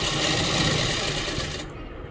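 A sewing machine runs steadily, stitching palazzo pants with a dense, continuous mechanical whir that holds for most of the moment before cutting off near the end.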